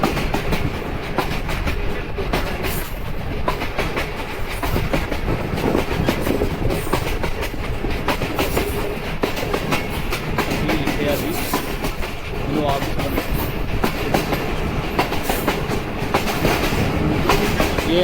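The Allama Iqbal Express between Sialkot and Lahore, heard from inside an AC standard coach, rumbles loudly and steadily with rhythmic clickety-clack from the wheels and faint voices in the background.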